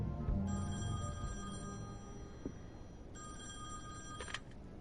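A telephone rings inside a residence in The Wolf Among Us video game, two electronic ring bursts separated by a pause, heard over a low background rumble without any talking.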